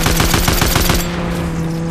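Rapid automatic gunfire from Fortnite Battle Royale gameplay, a close burst of about a dozen evenly spaced shots lasting one second, followed by a lingering tail of game ambience.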